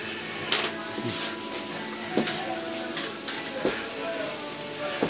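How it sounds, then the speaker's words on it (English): Beef browns in butter in a frying pan, giving a steady sizzle. A few soft knocks and stirring scrapes sound over it, and no one speaks. "First we have to brown the meat, and cooking it like that with butter and just brown it."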